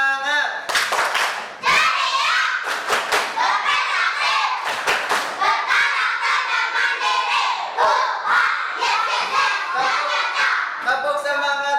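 Schoolchildren in a classroom perform a rhythmic 'tepuk semangat' clapping chant, loud sharp claps in patterned bursts alternating with shouted group chanting.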